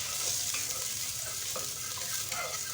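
Garlic frying in moderately hot oil, a steady soft sizzle with light stirring clinks and scrapes, close and continuous without talk.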